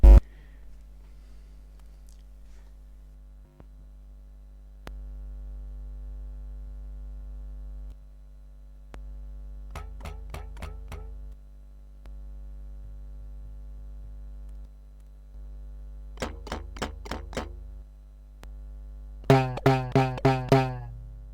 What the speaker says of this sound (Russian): А сейчас мы послушаем, как наша фольга звучит электрически.